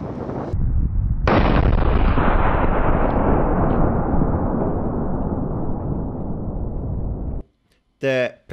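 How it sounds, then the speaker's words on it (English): A huge, sustained C-4 explosive blast cutting a steel beam roars for several seconds, very loud and close, then cuts to silence before a brief burst of voices. "The pressure and the sound that the C4 made surprised us all."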